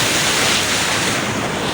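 Floodwater in Balochistan rushes and pours down in a steady, loud, broadband roar. The sound is close and continuous, with no voices.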